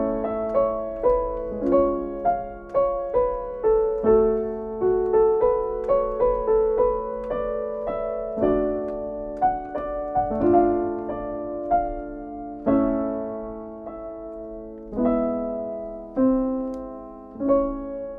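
Piano playing augmented chords in different inversions, a series of sustained, ringing chords struck one after another with some quicker arpeggiated notes, clear and close with no voice.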